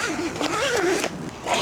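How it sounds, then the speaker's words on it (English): Zipper being pulled open along a car awning cover, a close, rasping, continuous zip with a wavering pitch, followed by brief handling sounds. "Now if we were to zip this open,"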